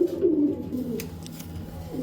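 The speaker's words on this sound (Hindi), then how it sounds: "बहुत ही नायाब कबूतर हैं, उम्दा क्वालिटी के" Saharanpuri pigeons cooing nearby, soft low throaty coos repeating over a quiet background with a few faint clicks.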